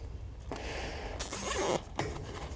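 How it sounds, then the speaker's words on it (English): A zip tie is pulled tight around a plastic collar on a pipe, giving a short ratcheting zip followed by a louder, longer rasping pull and a final brief click, close and clear. "Take our zip tie, start at about 10 mil up from the bottom and pull it tight"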